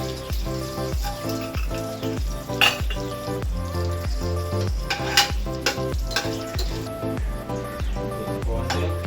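Ghee frying in a pressure cooker for chicken biryani, with a continuous sizzle under regular rhythmic stirring strokes and scrapes against the metal, repeating about every second, close and fairly loud.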